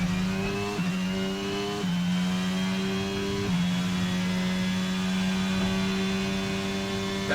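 Formula 1 car engine in F1 22 at the Dutch Grand Prix, a high tonal whine climbing steadily through gear changes, with sharp drops at each upshift before rising again, loud and alone.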